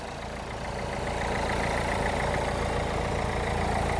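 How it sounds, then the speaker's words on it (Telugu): A 2015 Renault Lodgy RxZ eight-seater's diesel engine idles smoothly with an even, steady mechanical hum and no misses, recorded close by and heard alone without any talk. "engine smooth running, diesel engine అయినా కూడా చాలా స్మూత్ రన్నింగ్ సార్"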